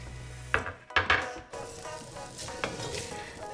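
Vegetables hit hot oil in a pan for a cabbage stew, sending out a few sharp clatters and bursts of sizzle, then a steady frying hiss underneath light stirring noises, without talk.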